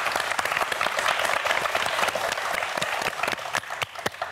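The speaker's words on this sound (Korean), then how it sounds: "자, 박수 한번 보내주세요." Studio audience applause on a Korean TV quiz show, a dense burst of many hands clapping that holds steady and then thins toward the end.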